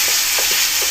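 Tomatoes with ginger and garlic paste fry in a pan with Kashmiri red chilli for an egg curry, a loud, steady sizzle broken by a few soft scrapes of stirring.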